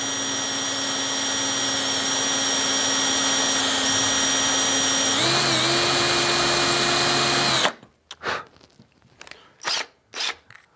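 A power drill steps up through bit sizes boring a hole in a stock motorcycle handlebar, a loud steady whine that shifts pitch partway, then cuts off, leaving a few short scrapes and knocks.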